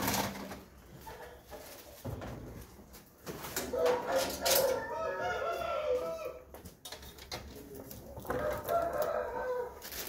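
Fighting roosters seized from an illegal cockfight crow and cluck in a busy, noisy setting, with several overlapping calls and background commotion, while people talk faintly.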